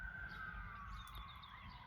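A distant emergency-vehicle siren wails with a slowly falling tone, another siren faintly overlapping, over steady low traffic rumble in a small Texas town.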